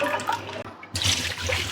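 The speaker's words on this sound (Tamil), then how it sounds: "அந்த அரிசி கழுவுன தண்ணியை இந்த மாதிரி மட்டனு சிக்கன்லாம் கழுவணும்னு வச்சிங்களேன்" Tap water runs and splashes over raw mutton pieces as they are rinsed in a bowl for Tamil-style mutton kulambu, a steady close wash with a brief pause before the flow surges again.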